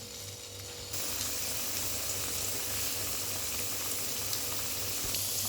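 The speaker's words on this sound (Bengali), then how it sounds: "এবার আমি আলুগুলোকে ফ্রাই করে নেব" Pieces of two cut medium potatoes fry in hot oil for a Bengali posto chicken dish, giving a quiet, even sizzle that holds steady throughout.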